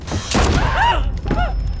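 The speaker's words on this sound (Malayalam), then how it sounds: "വെടി ഉതിർത്തപ്പോൾ ജെ പി വെടിയേറ്റ് വീണ്ടിരിക്കുന്നു" Gunshots ring out in a slasher thriller scene set in a motel, a couple of sharp loud bursts with ringing tones and dramatic effects layered over them.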